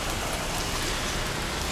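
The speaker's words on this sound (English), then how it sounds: "So it's raining" Steady rain falls as a dense, even hiss of drops striking surfaces, close and continuous with no voices.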